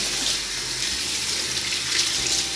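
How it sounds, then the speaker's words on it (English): Running tap water pours steadily over peaches being rinsed in a sink, a loud continuous splashing hiss with no pauses and no talk. "So now I just rinse them."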